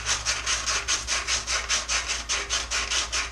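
Rhythmic back-and-forth scraping of 220 grit sandpaper on a rusty spring bushing bore of a 1991 Ford F350, steady strokes about three per second, loud and close with no voices.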